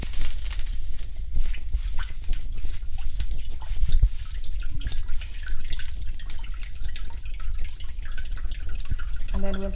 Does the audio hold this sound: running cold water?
yes